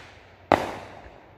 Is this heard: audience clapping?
no